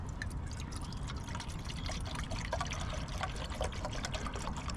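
Water pours steadily into camping stove pots, 500 ml each, making a continuous close trickling and splashing that fills the whole stretch without any talk.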